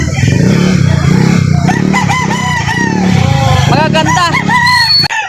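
Roosters crow at a chicken market in Lipa City, Batangas, several calls overlapping close by above a low engine rumble, while someone speaks briefly.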